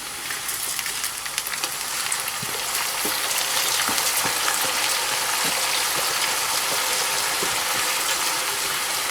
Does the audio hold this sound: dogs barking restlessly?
no